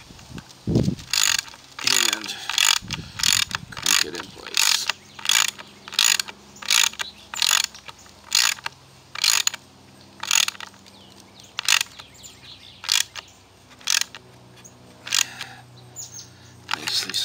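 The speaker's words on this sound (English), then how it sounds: "Take the ratchet" Ratchet wrench snugging a one-inch bolt with a fender washer into a T-nut on a module frame, giving a long run of sharp, evenly spaced clicks, close and clear, with a brief low knock at the start.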